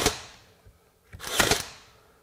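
A Worx 20V WX840L 18-gauge cordless nailer-stapler drives nails into wood, with one sharp snapping shot followed about a second later by a louder double clack, heard close and alone.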